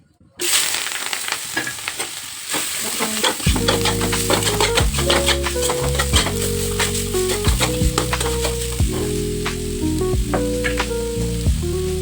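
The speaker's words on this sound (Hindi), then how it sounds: "अब मैं सारे चुकंदर को इसमें डालूंगी" Beetroot being fried in a pan for a bhujia sizzles loudly and continuously, with irregular stirring scrapes and clatters of a utensil against the pan.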